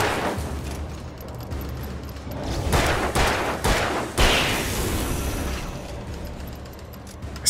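Gunshots fired at an enemy in the video game Alan Wake, several loud sharp bursts spaced over a few seconds amid rumbling game noise, with no talking.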